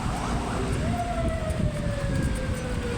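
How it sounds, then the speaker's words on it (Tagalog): An ambulance siren wails with rising and falling tones on a road in Dasmariñas, Cavite, over a loud rumble of traffic. It is fairly close and goes on for the whole stretch without voices. "Ambulansya guys."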